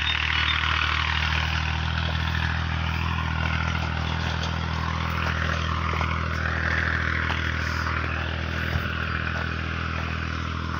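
A tractor engine running in a rural village setting, a steady low rumbling drone with some clatter that carries throughout at moderate loudness.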